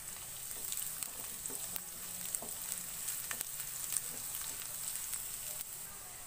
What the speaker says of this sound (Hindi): लहसुन को मैंने हल्का सा फ्राई कर लिया है